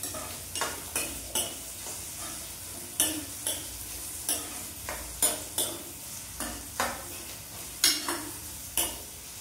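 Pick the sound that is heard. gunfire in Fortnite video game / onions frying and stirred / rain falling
onions frying and stirred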